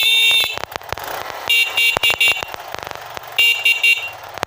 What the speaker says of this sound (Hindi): उसके बाद ये हॉर्न बजाता हूँ